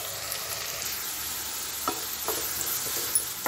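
Onions frying in a pan for mutton curry, a steady close sizzling hiss with a few soft stirring scrapes, no voices.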